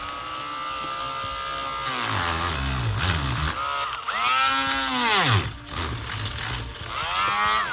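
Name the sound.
Dremel rotary tool cutting a doll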